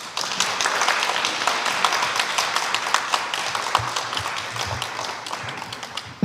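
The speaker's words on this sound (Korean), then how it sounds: "큰 박수 보내주셔서 감사드립니다" Steady applause from an audience at a live citizens' policy proposal contest, a crisp, even patter of many hands at moderate distance that fades slightly toward the end.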